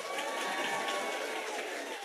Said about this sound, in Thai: เอาปรบมือให้พี่น้องคนไทยหน่อย